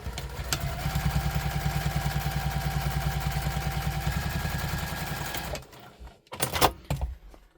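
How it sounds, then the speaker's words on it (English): A sewing machine top-stitches a tote bag in one steady, rapid run of rhythmic needle clatter for about five and a half seconds, close by, then stops and gives way to a few handling knocks. "I'm going to fold that over and then we're going to top stitch"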